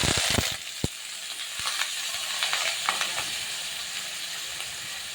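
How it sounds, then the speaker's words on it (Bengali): Potatoes sizzle and crackle in hot oil, a steady frying hiss broken by a few sharp clinks and scrapes of stirring, close by with no talk. "এবার আমি আলুটাকে একটু ভেজে নেব, হালকা করে আলুটাকে ভাজবো।"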